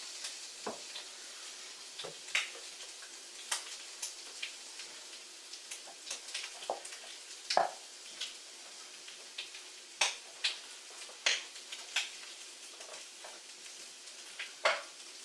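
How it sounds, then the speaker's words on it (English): Bacon fries in a pan, a soft steady sizzle broken by scattered sharp pops and crackles at irregular intervals, close and fairly quiet with no voices. "It's just the snap, crackle and pop of bacon frying on a pan"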